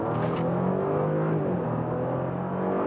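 VW Touareg eHybrid in sport mode with stiffened suspension, accelerating from 40 to 80 km/h on the Atlantic Ocean Road in Norway. A steady, close engine drone rises smoothly in pitch, heard from inside the cabin with no talking.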